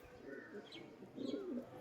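A male pigeon gives soft, low cooing calls, a short murmur followed by a fuller rolling coo, quiet and close with faint background noise.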